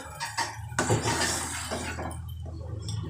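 Water sloshes and pours into a pot while cooking a moong dal fritter curry, a close, splashy rush with light clinks of metal, no voices.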